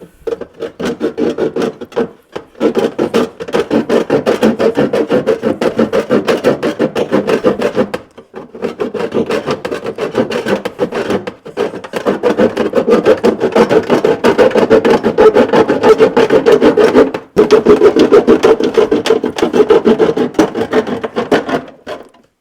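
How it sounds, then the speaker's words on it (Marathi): The fourth side is cut by hand with steady back-and-forth rasping strokes, loud and close. A few brief pauses break the cutting, and no one talks. "आता ही चौथी साईड पण आपण घेऊया कापून"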